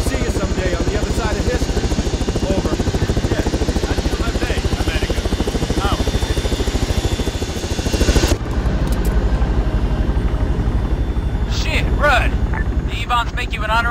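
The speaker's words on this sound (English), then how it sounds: "Your helicopter is landing." A military helicopter lands in the video game Arma 3, its rotor chopping loudly and steadily throughout with wind buffeting the microphone, then a shift in the engine tone partway through as the craft settles.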